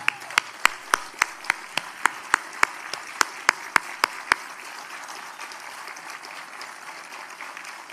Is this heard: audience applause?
yes